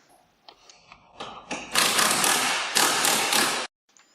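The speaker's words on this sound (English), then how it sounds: "We're going to tighten the bolts temporarily." Bolts on Track N Go tracks are tightened with a power tool: a few short taps, then a loud continuous whirring burst that stops abruptly. It is close, with no speech.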